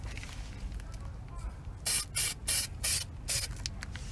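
Primer hisses from a spray can onto a rusty Subaru WRX brake caliper in several sharp, separate bursts of close spraying, each about a third of a second long and set between short pauses.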